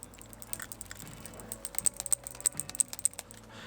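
Suunto Core wristwatch clicking up close: a quick, irregular run of small sharp clicks with no voices.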